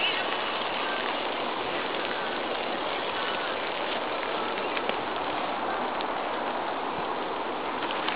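Heavy rain pours in a dense, steady hiss, loud and continuous throughout, with no breaks.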